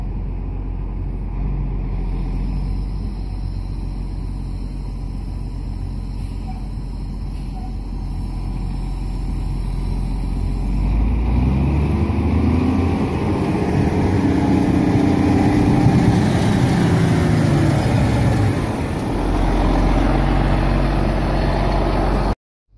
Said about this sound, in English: that tractor sounds pretty good.